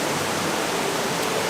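A woodland waterfall roars as a continuous broadband rush of falling water, loud and steady, with no voices over it.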